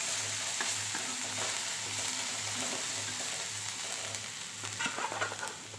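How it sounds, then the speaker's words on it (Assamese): Crushed ginger, garlic and pepper frying in a pan, a steady close sizzle with stirring scrapes running throughout, no voices. "এয়া অলপ ভাজি ল'ব লাগিব"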